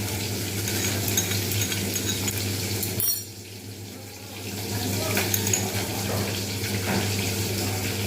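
Water is poured into a ginger, garlic and green chilli spice paste for a rohu fish curry with black cumin seed, a steady splashing and stirring hiss that briefly dips midway before resuming, close and alone without talk.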